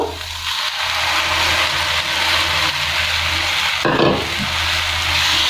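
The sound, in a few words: ridge gourd paste poured into hot oil, frying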